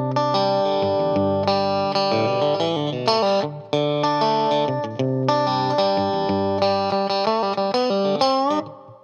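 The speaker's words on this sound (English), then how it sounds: "So the opening lick sounds like this." An electric guitar with distortion and chorus effects plays the opening lick of a song: a continuous, ringing run of chord and single-note figures, loud and close, with no voices.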